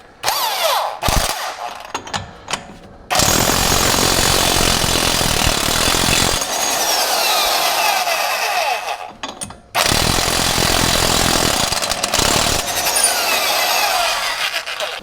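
Impact wrench hammers a 36mm socket against the CV shaft axle nut on a 2018 Chevrolet during a lower ball joint job: loud, close rattling bursts, a short one, then two long sustained runs separated by a brief pause, with no talking.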